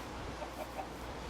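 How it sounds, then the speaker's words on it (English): A Minecraft chicken clucks in the modded Sky Factory 2.5 world, a few short soft clucks over a steady wash of background game noise. "Oh, we got a chicken? Here's the chicken."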